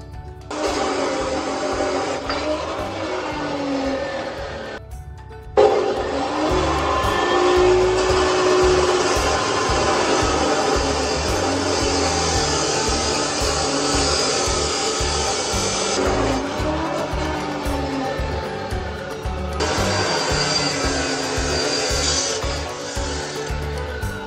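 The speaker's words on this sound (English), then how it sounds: "Take them on the grinding wheel right here" A bench grinding wheel grinds short pieces of pipe during a cattle feed bunk repair, giving a loud, continuous harsh rasp that stops briefly twice before starting again.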